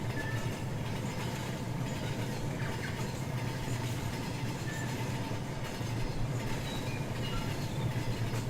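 A Class 35 Hymek diesel train runs in the railway simulator game Rolling Line, producing a steady, continuous rumble with clattering wheels and a low engine drone throughout.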